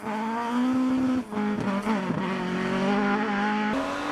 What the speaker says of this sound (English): John Haid was very exciting to watch in his Mark II on his way to second in that class at the Moat.